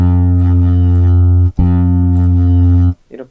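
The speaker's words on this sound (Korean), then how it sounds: "버즈라고 하면 아까 이제 버징이라고 해서 그 벌들이 이렇게 윙 하는 것처럼 이제 줄이 달달 떨리는 건데" Ample Bass Lite, a virtual bass instrument with auto buzz switched on, plays two loud, sustained low bass notes with a buzzing edge. Each note is separated by a brief gap, and a short burst of speech follows.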